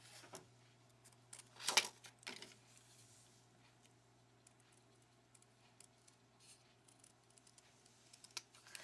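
Scissors fussy cutting a Dollar Tree sticker card, faint, close snips and small ticking cuts scattered irregularly, with one louder burst of rustling near the start, over a quiet steady hum.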